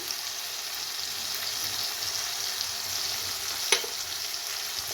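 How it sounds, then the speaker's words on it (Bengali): Spice paste of turmeric, Kashmiri chilli powder, sugar and salt fries in a little oil for jackfruit curry, giving a steady, fairly faint sizzle with one brief stir or clatter near the end. "এরপরে এভাবে আমি মশলাটা ভালোভাবে কষিয়ে নেব।"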